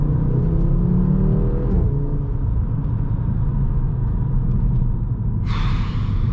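An Audi RS3 8P with a Milltek exhaust drones and rumbles from inside the cabin while driving, the engine note rising, then holding a steady low hum, with a brief rushing burst near the end.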